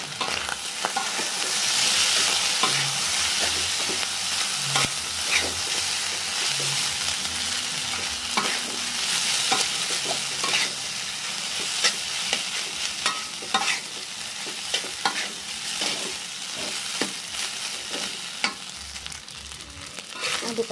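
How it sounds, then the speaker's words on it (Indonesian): Nasi goreng with sweet soy sauce sizzling in a pan while a spatula stirs and scrapes it in quick irregular strokes, close and steady under a constant frying hiss, with no voices. "Aduk sampai benar-benar matang ya."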